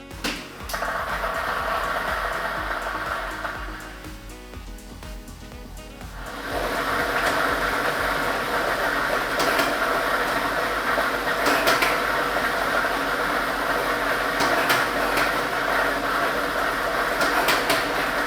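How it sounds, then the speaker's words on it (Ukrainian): Loto Maksyma lottery ball drawing machine running, a continuous whirring hum with rattling balls that drops briefly then resumes louder and steady, with no talk over it. "І ми вмикаємо лототрон."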